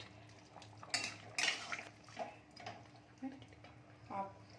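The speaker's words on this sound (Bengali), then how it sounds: "এবার একটুখানি নেড়ে নেবো।" Chicken being stirred in a pan, with quiet scraping and clinks of a utensil against metal, several soft knocks spaced unevenly, faint and close.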